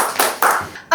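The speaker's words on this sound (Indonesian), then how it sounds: "Ya, tepuk tangan untuk Mas Adit." A few claps for a guest at the close of an amateur podcast, short separate bursts of hand clapping, close and fairly loud.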